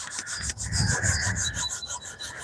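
A wet green Scotch-Brite abrasive pad scrubs over chrome plating in steady back-and-forth rubbing strokes, close and fairly loud, with no talking.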